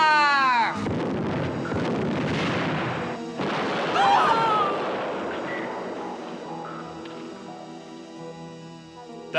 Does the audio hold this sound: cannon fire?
yes